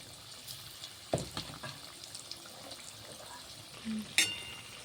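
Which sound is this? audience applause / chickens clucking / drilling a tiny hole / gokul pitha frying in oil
gokul pitha frying in oil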